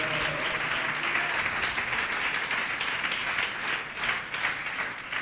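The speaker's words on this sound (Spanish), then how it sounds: "Dale fuerte las palmas a Dios." A church congregation claps hands for God, a dense, sustained wash of applause filling the room at steady loudness for the whole stretch, with no voice rising above it.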